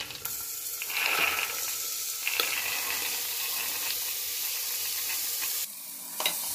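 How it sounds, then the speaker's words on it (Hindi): Black chickpeas fry with chopped onion and spices in a pan over a low flame, giving a steady close sizzle broken by scraping stirs of a spoon, until the hiss suddenly drops near the end. "और अच्छे से मिक्स कर लेंगे मसालों के साथ चने को"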